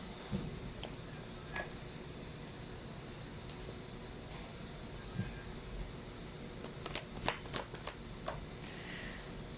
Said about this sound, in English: Let's try to pull out more cards here.